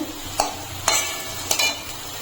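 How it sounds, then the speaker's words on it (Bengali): Potatoes and spice masala being fried together in a pan, with a soft sizzle underneath three sharp spatula scrapes and clacks spaced about half a second apart, no voices. "আলুটা দিয়ে মশলাটাই কষিয়ে নিচ্ছি"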